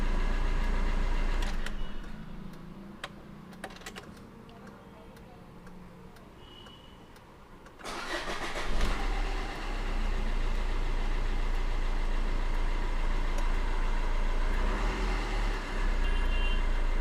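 A Maruti Suzuki car that has had a check engine light fault is started; after a quieter stretch with talking, the engine catches with a sudden rise and then settles into a steady, loud idle hum.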